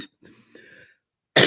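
A single sharp cough bursts out at the end, after a short stretch of quiet voice.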